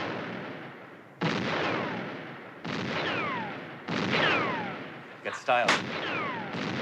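Guns fire at an outdoor firing range, four loud booming shots spaced over a few seconds, each with a long echoing decay, with a brief voice and a clatter near the end.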